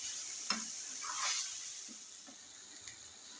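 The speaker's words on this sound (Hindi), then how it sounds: "बैगन शामिल कर रही हूँ, इसको हल्का फ्राई करूँगी बैगन को।" Eggplant lightly frying in a little oil in a pan gives a faint, steady sizzle, with a few soft clicks of stirring throughout.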